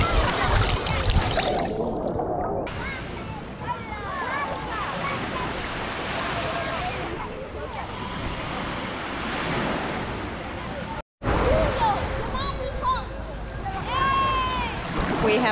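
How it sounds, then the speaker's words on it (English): Surf at Monterosso Beach in the Cinque Terre, Italy, with steady wave wash and wind rumbling on the microphone, and people talking over it, briefly cut out near the end. "We have now spent a few hours here at Monterosso Beach"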